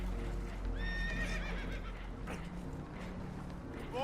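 Spooked horses whinny with rising and falling neighs in a Red Dead Redemption 2 scene aboard a boat taking on water, over a dense rumble of rushing water and hoof clatter.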